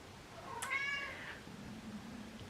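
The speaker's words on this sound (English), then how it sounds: "Kitty's visiting." A house cat meows once, a clear, drawn-out cry heard close by in a quiet indoor room with faint background hiss and no one speaking.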